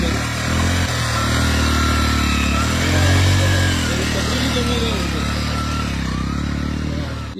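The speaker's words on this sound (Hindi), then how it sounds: "ये मोटरसाइकिल है, नॉर्मल मोटरसाइकिल है जो अपन चलाते हैं" An ordinary, unmodified motorcycle is ridden nearby, its engine giving a loud, steady drone that swells slightly midway and then holds before cutting off abruptly at the end, with no voices over it.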